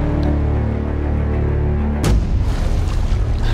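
A sudden loud explosion bursts in a PS3 first-person military shooter, Medal of Honor: Warfighter, after a steady low droning hum, followed by a rumbling, crackling aftermath.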